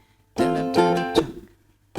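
Ukulele strummed on the verse chords of a song in a down, up, chunk pattern, with two bright sustained strums followed by a short muted hit. The strums are close and clear, trailing off before one more begins at the end.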